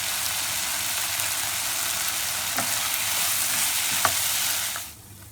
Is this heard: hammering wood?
no